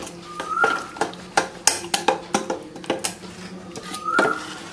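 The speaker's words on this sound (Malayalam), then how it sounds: "ശരിക്കും മിക്സ് ആക്കാം" A spoon stirs and scrapes wheat dosa batter in a bowl, producing a quick run of close, uneven clinks and taps with faint background sounds.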